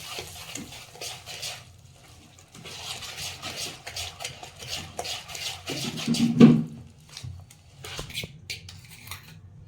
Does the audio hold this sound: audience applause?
no